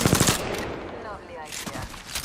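Rapid automatic gunfire from a firefight in the Apex Legends battle royale game, dense overlapping bursts of shots at close range with no talk.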